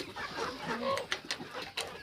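Backyard chickens cluck softly nearby, a few short irregular clucks and calls, faint and close, with light rustling in between.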